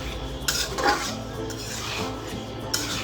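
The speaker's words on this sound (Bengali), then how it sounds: "আর একটু নেড়ে দেবো ঢাকনা খুলে" A spoon scrapes and clinks against a pot while a thin hilsa fish and fresh eggplant curry is stirred, with the lid off and a soft simmer running underneath the close, repeated stirring sounds.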